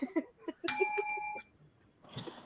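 A ringing bell with a bright, sustained metallic tone, struck once and decaying over about a second, with faint voices around it and a brief muffled clatter afterward.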